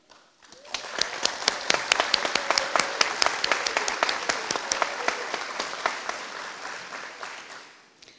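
An audience at a corrections officer graduation ceremony applauds the top-scoring graduate, many hands clapping in a dense, sustained round that builds quickly, holds steady, then tapers off at the end.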